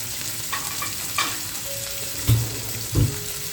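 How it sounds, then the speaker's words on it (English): Octopus tentacles grilling beside seafood: a steady, close sizzle runs throughout, broken by a few soft knocks and shifts as the pieces are moved. "The body part needs only 1 minute on each side, but I cook tentacles slightly longer, around 3 minutes in total."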